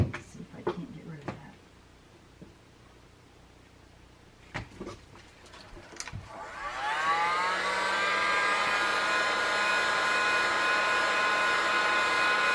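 Heat gun switched on during cross-stitch finishing work, its hot-air blower rising to a steady, loud whooshing hum that continues to the end, after a few light clicks and handling noises.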